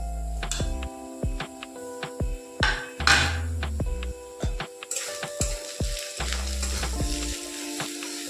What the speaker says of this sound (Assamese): এইখিনি এতিয়া কম জুইত ভাজিব যাতে মছলাখিনি জ্বলি নাযায়।